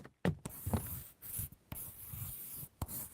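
Pen or marker scratching across paper while drawing a heart, close and quiet, in short irregular strokes separated by brief pauses.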